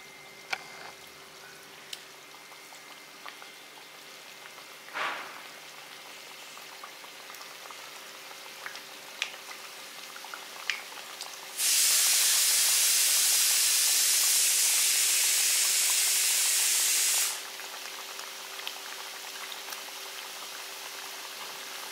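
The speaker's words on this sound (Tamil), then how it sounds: "இப்போ வந்து தட்டி வச்சதை வந்து நம்ம எண்ணெயில் போட்டு பொரிச்சுக்கலாம்" Pounded dough pieces deep-frying in hot oil for a Tamil laddu, a loud, steady bubbling hiss that bursts in suddenly, holds for several seconds and then cuts off, with quieter kitchen sounds before and after.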